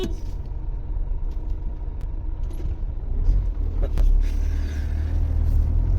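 A van pulling away on the road at the start of a long-haul trip, low engine rumble and tyre drone building gradually with a couple of faint clicks and a brief squeal, no talk.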